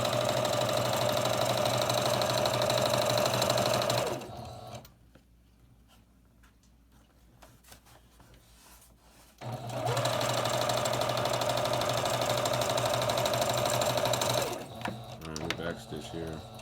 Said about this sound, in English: the sewing machine feels different